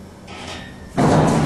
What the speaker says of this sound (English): See these doors open.